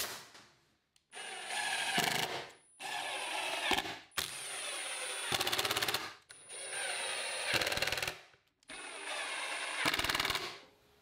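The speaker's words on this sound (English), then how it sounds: "I'll tack it in position with 3/4 inch nails, and then use 9 3/4 inch screws." A power tool drives 3/4 inch nails and screws into a plywood sofa table in five loud bursts of rapid mechanical whirring and clatter, each about a second or two long, separated by short pauses.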